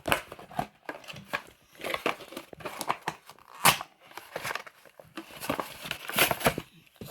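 Crinkly plastic and cardboard toy packaging being torn open and rustled, an unboxing of a robot dinosaur toy, with irregular close tearing, crackling bursts and snips throughout.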